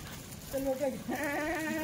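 A Kathiawadi goat bleats twice in close succession, a wavering nasal cry standing out over a noisy farm background.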